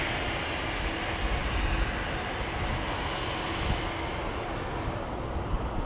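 An EasyJet Airbus A319 departing Amsterdam Schiphol Airport, a broad, steady jet engine roar that stays loud and even throughout, heard at a distance outdoors with no voices.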